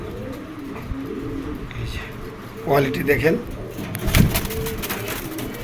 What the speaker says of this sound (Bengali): এটা দুবাই থেকে ইম্পোর্ট করা একটা কবুতর